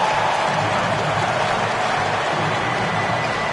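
Dense, steady roar of a Boston arena crowd in an NBA 2K23 basketball game, a loud continuous wash of cheering and noise with no distinct breaks and no talk.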